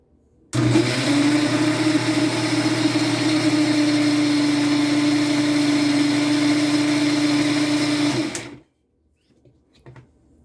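An electric mixer churns ghevar batter of flour and ice-cold water, giving a loud, steady motor whir close by that runs for about eight seconds and then cuts off abruptly.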